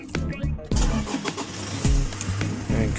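A 2019 Toyota Hiace van starts with a newly programmed replacement key. There is a clicking crank, then the engine catches and settles into a loud, close, rough idle with a brief rev.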